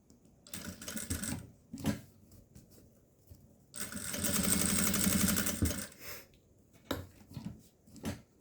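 A domestic sewing machine stitches cotton tricoline for a zippered pouch, with short bursts of rapid mechanical chatter and one longer steady run in the middle, close and loud.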